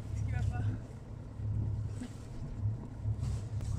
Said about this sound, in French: je vais démarrer le moteur